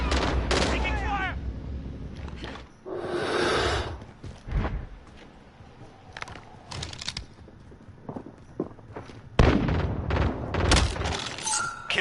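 Video game gunfire comes in sharp bursts and single shots, some near and loud, others fainter, scattered across the clip with brief voice callouts between them.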